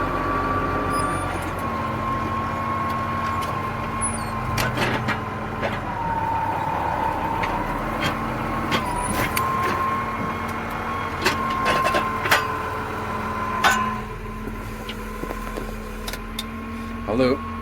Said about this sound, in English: such a good tractor.